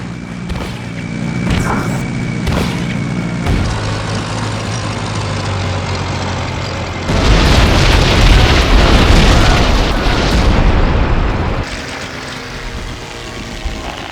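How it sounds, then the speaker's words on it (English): Bombs explode on the Iwo Jima airfield in the Heroes of the Pacific video game: loud, close booming blasts over a constant aircraft engine drone, swelling into a sustained roaring burst of explosions that then fades back to engine noise. "Approach for airfield. Bombs away!"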